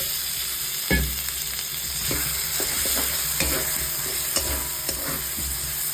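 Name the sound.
potatoes being stir-fried in spice masala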